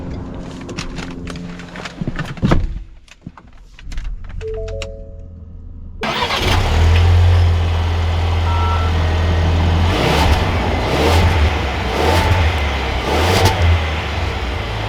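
A 2021 Ford Ranger Lariat pickup starts with a brief crank and settles into a steady mid-pitched engine hum as it pulls away, preceded by clicks and short electronic chimes inside the cab; no talking.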